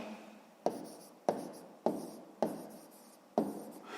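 A pen writes an answer by hand for a sixth-grade maths exercise, tapping the paper in five sharp, evenly spaced strokes, each followed by a short scratch, quiet and close with no voices.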